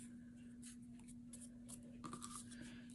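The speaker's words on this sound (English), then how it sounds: "all I do is with my nail I just fold every layer of this flower" Fingernail folding layered paper flower petals, a series of soft dry scrapes and crinkles in quick bursts against a steady low hum, close and quiet.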